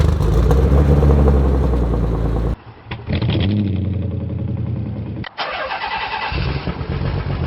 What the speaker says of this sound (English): So let's start up. It's a cold start after don't know how many days.